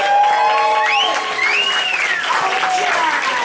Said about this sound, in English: can I get a round of applause for all the contestants?